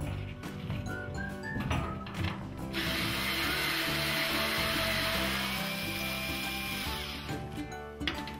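Ratcheting clicks of a screwdriver or ratchet unscrewing a screw on a washing machine panel, a steady dense rattle of small mechanical ticks, close and continuous, with no talk.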